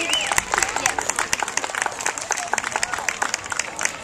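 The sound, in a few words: audience applause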